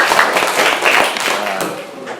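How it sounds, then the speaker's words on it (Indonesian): Classroom clapping as pupils applaud a classmate's answer, a short burst of uneven hand claps with overlapping voices, fading toward the end. "Tepuk tangan dulu ya."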